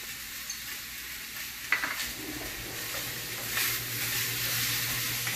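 Bell pepper and onion curry sizzling in a pan while being stirred, with a steady frying hiss, a couple of sharper scrapes and clatters of the utensil, close by and without talk.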